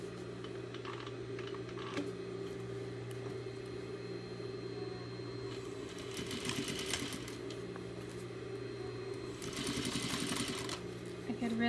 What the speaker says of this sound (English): I'm going to top stitch on the inside